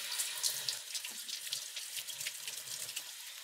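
Tap water running over philodendron roots to rinse off soil, a steady close splashing stream with uneven spattering throughout, no talking.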